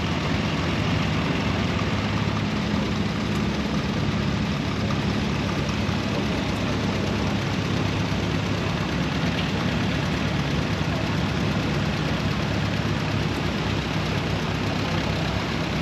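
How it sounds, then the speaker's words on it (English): A 1937 Minneapolis Moline Twin City KTA tractor idles at a show in Larned, Kansas, a steady low engine rumble buried in constant outdoor noise. "is a Minneapolis Moline Twin City tractor"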